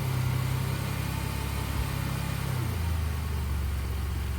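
A 2009 Jeep Liberty idling at a police auction lot, a steady low engine rumble close by that shifts slightly lower partway through, with no voices.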